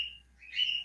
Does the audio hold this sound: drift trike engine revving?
no